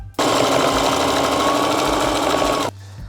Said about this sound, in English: So now I'm just gonna sew up the sides again, just like I did attaching the trim.